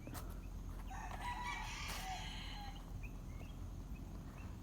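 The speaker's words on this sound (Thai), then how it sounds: "จะเป็นไก่ป่านะครับ" A jungle fowl crows outdoors at a Thai temple in late afternoon, one rising, drawn-out call heard at a moderate distance over steady ambient background noise, followed by quieter surroundings.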